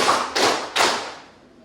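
Students in a classroom play a clapping game, striking three sharp, loud claps in unison at an even pace, the last one ringing out and fading.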